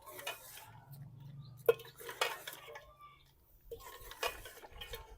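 A spoon stirs beef gosht with ground garam masala in a pot over a village wood fire, giving faint, intermittent scrapes and clinks of metal against the pot, with a low hum in the background.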